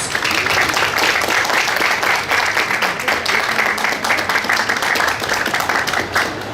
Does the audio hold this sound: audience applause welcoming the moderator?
yes